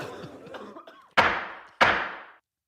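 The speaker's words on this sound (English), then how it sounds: "You got one more cough." Some muffled murmuring gives way to two sharp, loud coughs about half a second apart, each one a hard burst that trails off quickly, close by and clear.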